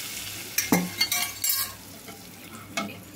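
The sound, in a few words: sizzling tempering poured into tomato dal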